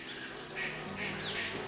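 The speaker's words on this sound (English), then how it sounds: "Here's the bees." Bees buzz in a video game, a steady close insect drone with faint chirping swells over a continuous background hum, no talking.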